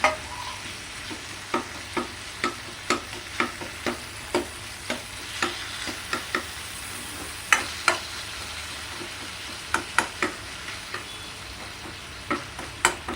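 Crushed ginger and tomato frying together in a pan, a soft constant sizzle broken by regular spatula taps and scrapes, some coming in quick pairs, close by with no voices.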